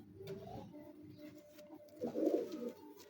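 Teddy pigeons coo close by in soft, throaty rolling calls. A swelling coo near the end is louder than the rest, and no one speaks.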